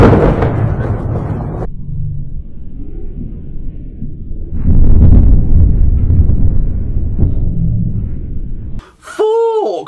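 Heavy thunder from a lightning strike on an early-morning trip in Florida rolls in as a loud, sustained rumble with a sharp burst in the middle, then cuts off near the end.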